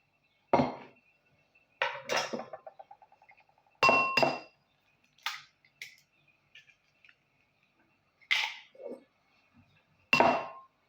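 Eggs are cracked against a bowl, giving sharp, isolated glassy clinks and taps spaced a second or two apart, close and clear against quiet, with brief rattles after some hits.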